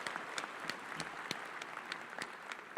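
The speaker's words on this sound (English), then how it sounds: "Let's give that a round of applause" An audience at a medical school white coat ceremony breaks into brief applause, a steady wash of many hands clapping with a few sharper individual claps standing out, moderately loud and unaccompanied by talk.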